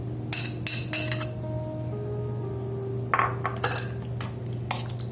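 Spoon clinks against a bowl as curd is stirred into cooked pineapple for pulissery, a bright series of metallic taps in two clusters over a steady low hum.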